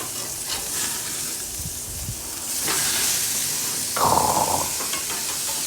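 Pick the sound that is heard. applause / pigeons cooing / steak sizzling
steak sizzling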